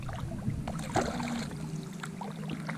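A fishing boat paddled on cold water: a steady wash of water with faint dips and splashes from each stroke, close by, without speech.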